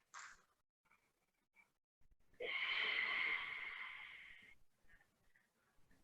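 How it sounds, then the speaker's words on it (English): Deep breathing during a yoga session in child's pose: a long, airy, slightly wheezy breath swells up and fades over about two seconds, with faint softer breaths and small snuffles before and after, close and quiet. "And do your deep breathing."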